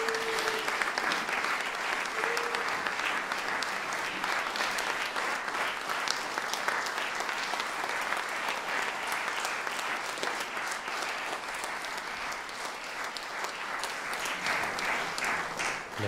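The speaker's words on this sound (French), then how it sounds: "Une dernière main d'applaudissements" Sustained audience applause at a poetry recital paying tribute to a poet, a steady dense clapping from a moderate distance that continues without a break.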